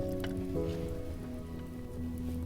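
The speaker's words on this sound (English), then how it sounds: "The weather's a little bit rainy today" Rain falls outdoors with a steady, even patter and hiss, layered over a soft low tonal drone.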